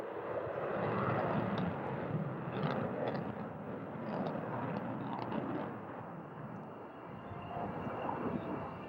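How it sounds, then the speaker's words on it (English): A military jet flies a landing pass at the 1991 Barnes ANGB air show, a continuous loud, broad engine roar that swells and eases slightly throughout, with no voices. "Setting up now for its first landing pass, which will be a touch-and-go landing"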